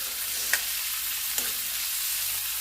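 Onion, ginger-garlic paste and chillies frying in a pan give a steady, bright hiss close by, broken by two sharp clicks.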